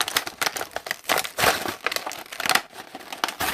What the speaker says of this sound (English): I'm going to open a vintage Ninja Turtle figure